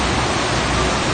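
Dangerous South Fork King River rushing past, a constant, full-bodied roar of churning water up close, loud and even throughout.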